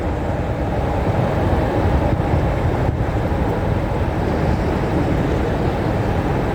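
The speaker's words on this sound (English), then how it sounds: "going over the top of us now, over the River Trent, is one of the busiest motorways in the country" Heavy traffic on the M1 motorway rumbles steadily overhead, heard from a canal boat beneath the bridge over the River Trent, a loud continuous roar with no break.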